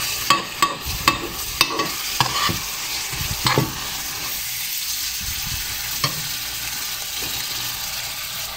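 A spoon scrapes and stirs jereesh, a cracked-wheat porridge with lemon, in a pot over low heat, giving soft irregular clinks and a steady bubbling sizzle up close.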